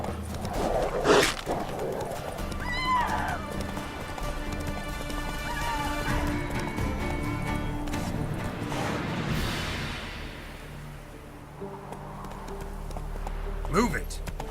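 Hoofbeats of a galloping horse in The Witcher 3, a fast steady clip-clop close up, with occasional whinnies and snorts from the horse, all set over game music and ambient sound.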